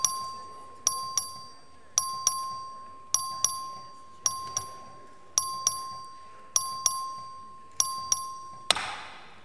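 In the Texas House chamber a voting bell rings out in crisp, bright two-note chimes, repeating at a regular pace about once a second and ending in a short burst of noise.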